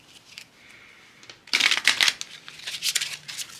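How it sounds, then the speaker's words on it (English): Crisp riffling and flicking of oracle cards being shuffled, a faint soft pass first, then a louder, busier burst of shuffling close by. "One more shuffle."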